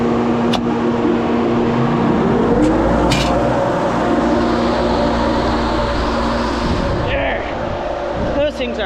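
Large barn fans in a cattle barn roar loudly and steadily with a constant hum, close and continuous throughout.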